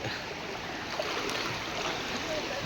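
Floodwater from Cyclone Fengal rushing through a village, a dense continuous roar of flowing water, loud and close, with no break across the moment.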